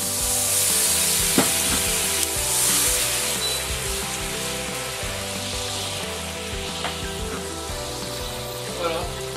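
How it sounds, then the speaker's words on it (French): Veal kidneys frying in a pan with sauce, a close, continuous sizzle and bubbling with occasional utensil taps and scrapes, steady throughout. "je mets ça dans la poêle avec la sauce"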